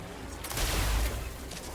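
Gunshots ring out in the Killer Klowns from Outer Space video game, a brief cluster of loud, booming shots with a deep low thump, fading into faint background game noise.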